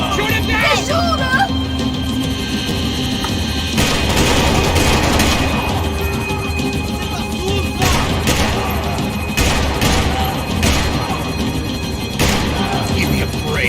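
Gunfire in the Max Payne game, rattling bursts and heavy impacts over a constant loud roar, with shouting voices throughout.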